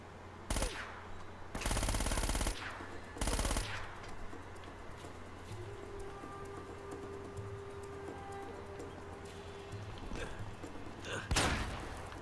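Gunfire in the video game Uncharted: Drake's Fortune, a few loud bursts of automatic fire, one long sustained volley near the start and a final burst at the end, over a steady low game ambience.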